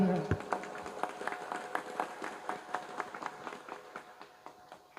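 Applause from an audience at a live Topeng Ireng dance performance in Butuh Kalikajar, heard as a steady patter of scattered claps that thins out toward the end, with a murmuring crowd underneath.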